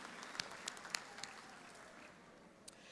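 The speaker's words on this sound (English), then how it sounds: "Let's give a big round of applause for our Board of Trustees." Applause at a high school graduation ceremony, a faint, thin patter of scattered clapping from a distant crowd that fades away within a few seconds.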